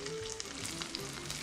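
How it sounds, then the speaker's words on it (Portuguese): Grated potato rösti fries in fat in a pan, giving a quiet, steady sizzle with small crackling pops scattered throughout, close and with no voices. "deixa essa gordura vir aqui para as laterais para fritar"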